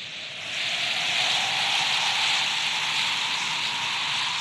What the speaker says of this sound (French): Ah oui, et il commence déjà à pleuvoir.